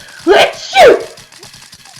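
A video game character sneezes in two loud, sharp bursts close together, a short inhale-like build then an explosive release, followed by faint rhythmic ticking in the background; a voice speaks briefly.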